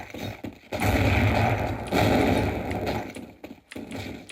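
Gunfire from the game Counter-Strike over a Razer Leviathan V2 Pro soundbar: loud, full bursts of rapid shooting in several waves separated by short pauses, with no voices.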